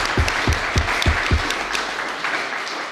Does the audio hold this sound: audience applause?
yes